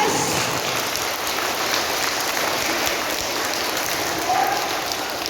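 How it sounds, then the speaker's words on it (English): Children at a school morning assembly keep up a dense, steady round of applause at middling distance, with no one talking through it. "Fantastic, come on, give a clap."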